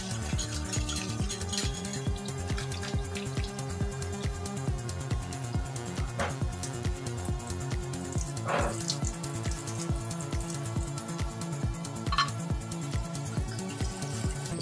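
Chopped giloy vine stems and leaves being washed under running tap water, a steady splashing flow with occasional clinks of pieces against a vessel, close and continuous with no talking.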